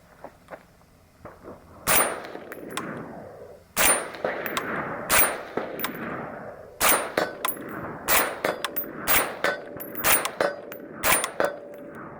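A suppressed Surefire Socom RC2 rifle fires repeated shots at a steel target about 150 yards out, each muffled report followed by a bright metallic ring, spaced irregularly and fairly loud with no voices.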